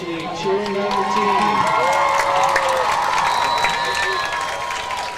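A crowd cheering at a high school game at Poston Butte, loud, continuous roar with whoops and children's shouts, swelling in the middle and easing toward the end.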